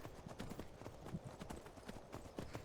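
Horse hooves clip-clop steadily in Skyrim VR, with a continuous rhythmic trot of moderate loudness and no voices.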